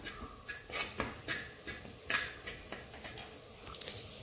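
A spoon works chilli, turmeric and coriander powders around a pan in quick, light scrapes and clinks, a soft repeated rhythm of metal on metal at low volume with no voices.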